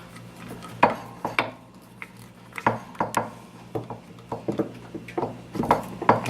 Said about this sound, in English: We're just going to screw that back on.